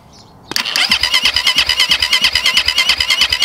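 A 2022 SSR SR300 dirt bike, choke on and throttle slightly open, cranks over with a rapid rhythmic chugging pulse that catches and keeps turning over loudly and close for about three seconds after a brief quiet start.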